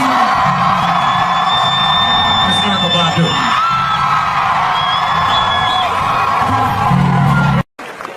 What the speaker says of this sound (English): make some noise. Make some real noise.